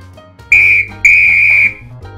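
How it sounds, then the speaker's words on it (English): Two loud, shrill blasts from a yellow plastic toy whistle, the first short and the second held longer, sounding close up over a low background hum. "Yellow toy whistle!"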